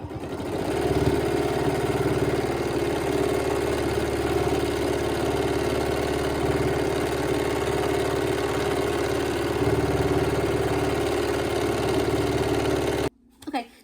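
A home sewing machine runs continuously while free-motion quilting stipples, a steady motorized whir with a constant pitch and rapid needle chatter, fairly close and loud, stopping abruptly near the end.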